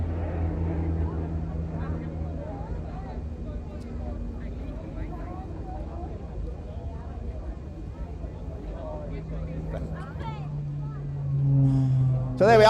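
A vintage warbird at the 2016 Scottish International Airshow makes a high-speed pass with smoke on, landing light lit and gear tucked away. Its engine drone holds steady, then swells toward the end, with voices heard over it.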